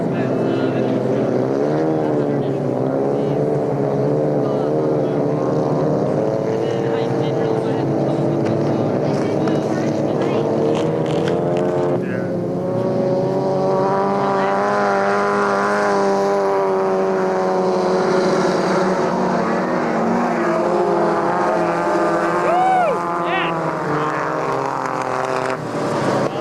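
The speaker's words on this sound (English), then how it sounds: "can hear that raspy sound of the Volvo" A raspy Volvo ice racing car engine revs and drones steadily at a 1998 ice race, its pitch rising and falling as it works around the track, with a voice talking over it.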